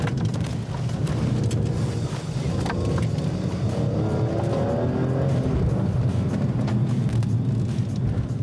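BMW M3 driven on a dry track through a slalom, a loud continuous engine roar with shifting revs and tyre and wind noise, no voices.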